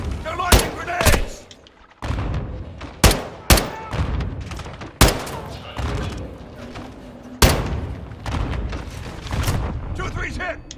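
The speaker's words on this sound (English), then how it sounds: "They're launching grenades!" Heavy booming grenade-launcher blasts and gunshots in Modern Warfare 2 land as distinct loud impacts every second or two, each with a rolling tail, while voices shout over the combat.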